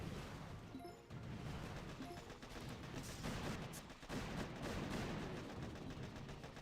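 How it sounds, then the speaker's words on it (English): A shock launcher firing during a Boom Beach warships battle, heard as scattered booms and crackling impacts over a busy, moderately quiet backdrop of battle noise. "I will let this shock launcher fire"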